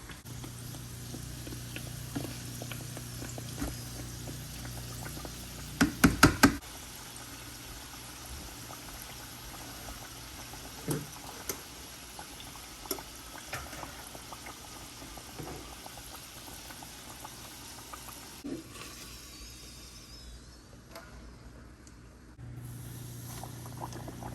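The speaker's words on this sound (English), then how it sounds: "because we're frying it in oil" Steady sizzling and bubbling of bannock dough made with milk frying in hot oil, continuous throughout with a few brief clanks of utensils partway through.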